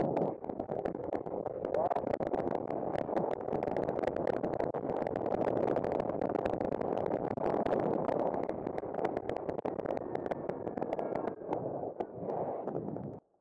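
A 2022 Kawasaki Ninja 300 motorcycle being ridden, its engine a steady mid-pitched drone mixed with rushing wind noise that holds throughout before cutting off abruptly at the end.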